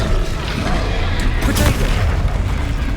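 Spell cast in the video game Hogwarts Legacy, a loud booming magical blast with sharp bursts over a busy battle soundscape, with a voice calling out over it.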